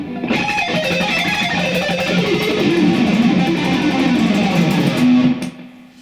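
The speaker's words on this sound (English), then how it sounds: "How many times have you heard an electric guitar player sound like this?" Electric guitar played fast with poorly synchronized alternate picking, a dense, loud, continuous smear of notes lasting several seconds before cutting off abruptly.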